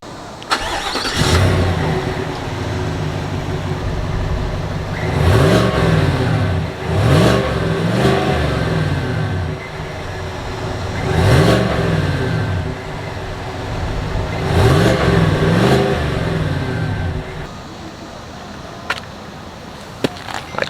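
A 2021–2024 Chevy Z71 Tahoe with a quiet exhaust idles with a low rumble and is revved four times in two pairs, each burst rising sharply and then dropping back, before the engine settles near the end.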